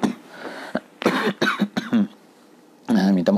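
A man coughs a few times, short throaty bursts with brief gaps, alone and close to the microphone.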